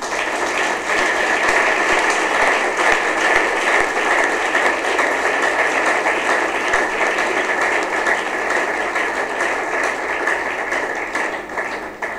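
A crowd at a book presentation and signing applauds steadily and loudly, a dense continuous wash of clapping with cheering that holds for the whole stretch before tapering slightly at the end.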